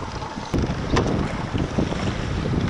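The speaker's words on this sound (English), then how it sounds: "Only the wind would slow down." Gusty wind sweeps across open water around a small fishing boat, roaring steadily into the microphone with waves slapping the hull, loud and close with no voices.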